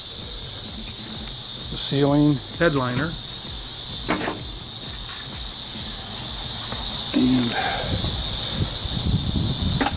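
Cicadas outdoors drone in a loud, continuous high buzz that never lets up, running beneath a voice talking close by during a car restoration.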